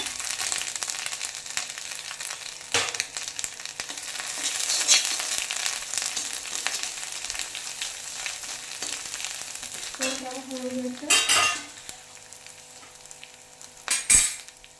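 Cumin seeds crackle in hot oil in a pan, then grated ginger goes in and sizzles, with a couple of sharp utensil knocks against the pan near the end.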